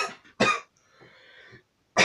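A person coughs in short bursts indoors: a double cough at the start, a strong cough around half a second in, then a quieter rasping breath, and a final loud cough at the end, with silence between.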